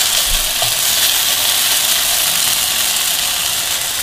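Kurchay aloo potatoes fry in a pan with a loud, steady sizzle that fills the whole stretch, plus a couple of soft low knocks near the start.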